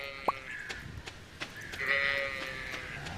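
A goat in the farming game Stardew Valley gives short bleats amid soft game sounds and light clicks, fairly faint and with no talking.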